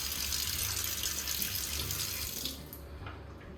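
Water runs steadily from a tap over a pressure cooker to cool it, a constant hissing splash that quiets and thins out toward the end. No voices.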